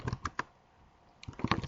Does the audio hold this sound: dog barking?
no